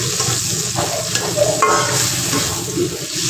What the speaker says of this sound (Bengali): মাছ ভাজা হয়ে যাবে